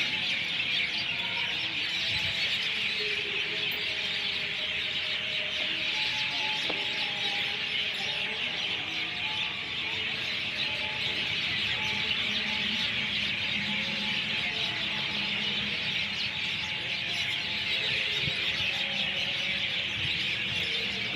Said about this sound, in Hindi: बहुत सालों के बाद चिड़ियों की इतनी चहचहाहट सुनी है।